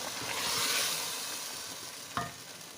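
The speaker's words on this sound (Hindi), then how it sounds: "ये देखें, मैं इसमें टमाटर का पेस्ट शामिल कर रही हूँ, और इसको मिक्स करूँगी।" Mutton karahi sizzling steadily in the pan as tomato paste is stirred in, a soft continuous frying hiss with light scraping from the stirring and one sharper clack near the end, and no talking.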